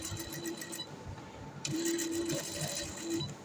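Sewing machine stitching boot piping onto a slit neckline along the presser foot, a quiet steady hum with light rhythmic needle ticking over a few seconds.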